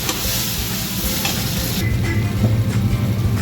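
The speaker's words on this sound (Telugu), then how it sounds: "టమాటాలు మంచిగా వేసుకోవాలండి. బాగా వేయించుకోవాలి మెత్తగా అయ్యేదాకా." Tomatoes, chili and onion fry in oil in a pan as the base for an Odisha-style fish curry, giving a loud, steady close sizzle with scraping stirs running through it and no voices.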